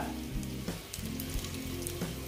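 Bay leaf, whole garam masala and dried red chillies sizzle in hot oil for an egg curry, a dense, even, close frying hiss with small crackles throughout.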